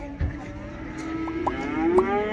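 Calves and cattle low at a livestock market in Taraz, a couple of short moos rising over a steady bed of crowd murmur and yard noise.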